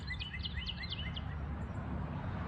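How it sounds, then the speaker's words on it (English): A bird gives a quick series of repeated chirps, about six in a row, over a low rumble of distant traffic outdoors at a botanical garden in Kennett Square, Pennsylvania. "You can hear all the birds chirping."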